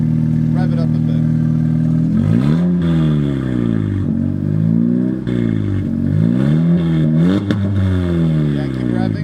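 A 2018 Honda Civic Si fitted with an Invidia R400 exhaust revs repeatedly, its pitch climbing and falling in several loud swells while people talk over the engine.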